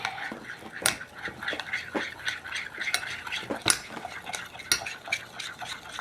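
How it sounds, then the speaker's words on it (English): A spoon stirs shaving cream into fluffy slime in a bowl, making a run of wet, squelchy scrapes and taps in an uneven rhythm, close by and fairly loud. "And you're going to stir that in."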